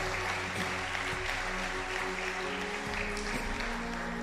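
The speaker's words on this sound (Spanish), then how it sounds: "Denles aplauso al Señor." A church congregation applauds during a Spanish-language sermon, steady dense clapping filling the room evenly from start to finish with a low hum underneath.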